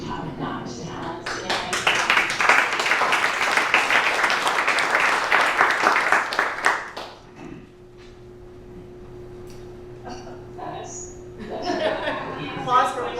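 Town hall audience applauding at a YMCA gathering, a dense burst of clapping for about seven seconds that then fades, with a steady hum and scattered voices and chuckles afterward.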